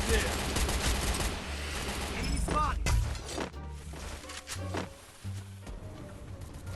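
Bursts of gunfire in the video game Free Fire crack out in rapid volleys with sharp impacts and smashing noises, while a player talks over the action.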